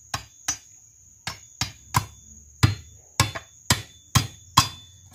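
Nail being hammered into the wooden handle of a sickle, outdoors on a farm: about ten sharp, close metallic blows in an uneven rhythm, some strikes doubled, with no talking.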